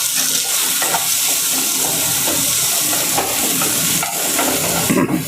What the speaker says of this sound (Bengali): ভালো করে নাড়াচাড়া করব।